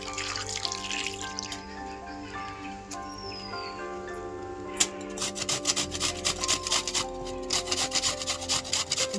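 Peeled carrot and beetroot are grated on a hand grater, starting with quieter handling and then a fast, regular scraping rhythm of repeated strokes that grows louder and busier toward the end.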